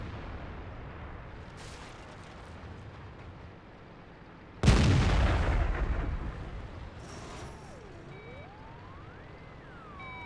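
A single heavy tank cannon shot firing a HEAT round in World of Tanks, a loud abrupt blast that rings out and decays over a couple of seconds over a quiet engine rumble, followed by a faint wavering tone.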